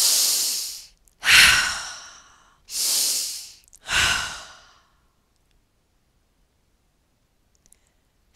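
Deep breathing during a shoulder mobilization exercise: four loud, close breaths, alternating inhales and exhales, each lasting about a second, followed by near silence.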